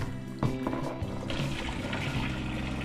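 Water sloshing and pouring over raw beef pieces being rinsed in a bowl for korma, a steady wet wash with a few clattering bumps, fairly close.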